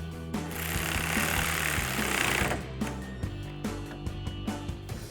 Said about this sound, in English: take the same 6mm Allen socket to tighten that down